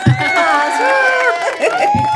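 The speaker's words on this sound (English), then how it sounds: "Applause." Studio audience cheering and whooping with a crowd roar, loud and continuous for a couple of seconds, with excited shouts rising over the noise.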